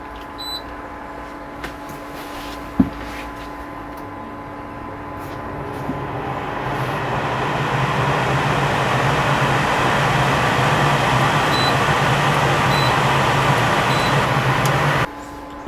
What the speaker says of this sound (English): I'll turn the aircon on.